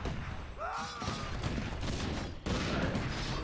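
Mortar teams firing in a Warcraft 3 match, heard as a dense fusillade of booming shots and thuds over busy game sounds, with a few swooping tones and a voice talking faintly underneath.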